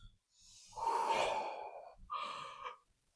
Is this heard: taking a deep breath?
yes